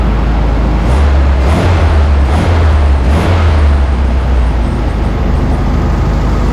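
A 1972 VW Karmann Ghia engine runs loud and close, its low idle rumble swelling into several quick throttle blips at roughly even intervals before settling back.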